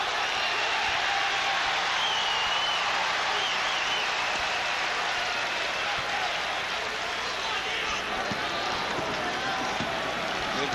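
Arena crowd at a 1991 Pitt Panthers versus Providence Friars college basketball game, a continuous roar of cheering and applause with faint sneaker squeaks and ball bounces, while commentators talk over it.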